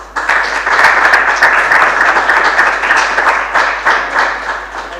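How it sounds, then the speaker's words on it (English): Steady, dense applause from a sizeable audience at an entrepreneurship festival, many hands clapping at once for several seconds with no voices over it. "a round of applause for them."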